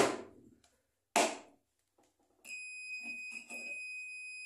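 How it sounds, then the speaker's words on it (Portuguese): Steady high-pitched electronic beep from a homemade capacitor tester signalling a faulty microwave or fan capacitor, sounding continuously after two short bursts of rustling and handling noise. "O bom não bipa não, o ruim bipa."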